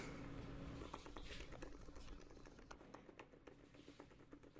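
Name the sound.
typing on a computer keyboard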